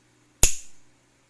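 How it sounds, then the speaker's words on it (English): A single sharp finger snap cracks once in a quiet room, a crisp close click with a short decay. "I push collect and I snap my fingers"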